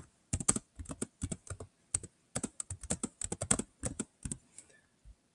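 Computer keyboard typed on at a desk, quick irregular bursts of close, crisp key clicks with brief gaps, alone without voices.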